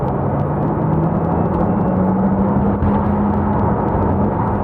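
Inside a 2022 Porsche Taycan 4 Cross Turismo in Sport Plus mode, a synthetic drive sound from the speakers hums steadily with a low droning tone over road noise, smooth and continuous.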